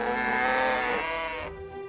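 Farm animals lowing and bleating in the My Time at Portia video game, a single sustained, tonal moo-like call that fades away.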